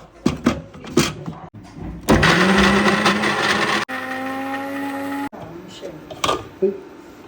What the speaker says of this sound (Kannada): ಬನ್ನಿ ಮಿಕ್ಸಿಗೆ ಫಿಟ್ ಮಾಡಿಬಿಟ್ಟು ಆಡಿಸ್ಬಿಡೋಣ ಇದನ್ನ